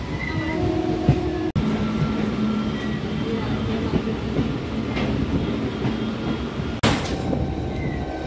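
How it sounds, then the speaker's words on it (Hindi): The Singrauli-Varanasi Intercity Express runs near Robertsganj with a steady, dense rumble of rolling wheels, broken by a couple of sharp clanks and faint rhythmic clatter. "सोनभद्र से रॉबर्टसगंज चल चुके हैं ट्रेन"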